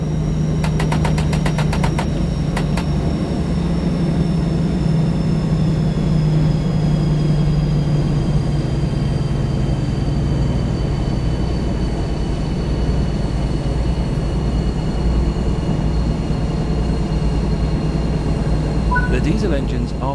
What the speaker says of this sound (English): But we need to run down the diesel engine before the power can be cut completely.